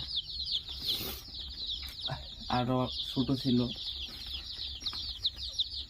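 Young layer chicken chicks cluck and chirp close by in a poultry shed, with repeated short bursts of clucking, while someone talks over the flock.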